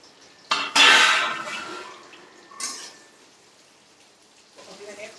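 Pointed gourd (parwal) goes into hot oil in a pan, setting off loud bursts of spattering sizzle with a metallic clatter that fade and flare again.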